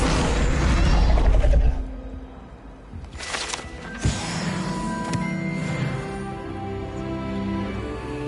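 Incendio fire spell cast in the game Hogwarts Legacy: a loud rumbling whoosh that cuts off, followed by a sharp impact thud and a crackling, ringing magical sizzle fading out, with no voices.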